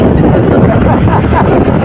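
Steady, loud wind rushing and buffeting, a continuous broadband roar with no pauses, blowing through a forest in Magallanes, Cavite.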